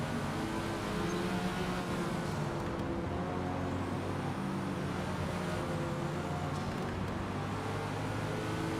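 McLaren race car engine in Forza Motorsport, a steady droning hum held at a constant level for several seconds with no sharp revving, heard as from a following camera.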